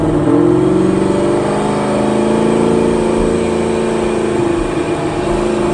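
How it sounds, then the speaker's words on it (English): A 1000 hp Procharged Camaro engine revs high while cruising, a loud sustained mid-pitched drone with shifting harmonic tones heard close from inside the car, with no talking. "you can see it's revving higher even at cruise because I have that converter"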